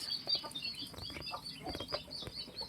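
Ducks and chickens feeding on a family farm, soft clucks and pecking bursts close by with high chirps, busy and continuous at low volume.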